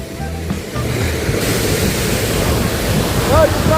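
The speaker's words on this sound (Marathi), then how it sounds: "तिथं बघा धबधबा आहे" A waterfall near Badrinath in the Himalayas gives a steady, broad rushing roar that holds evenly throughout, with faint wind buffeting the microphone.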